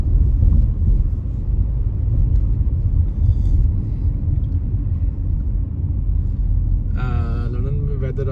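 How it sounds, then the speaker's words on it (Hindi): Steady low rumble of street traffic in a London town on a cloudy, cold day, continuous and fairly loud throughout, with a brief voice-like tonal sound near the end. "अब यहाँ पे थोड़ी सी शायद ट्रैफिक हो,"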